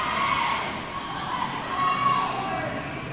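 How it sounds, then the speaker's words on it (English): At a powerlifting nationals bench press event, a crowd cheers and shouts for a lifter, a steady stream of excited voices at moderate distance that swells slightly midway. "Dan's got quite a big crowd behind him. Dan coaching quite a lot of the members of the crowd, so you can hear them getting behind him."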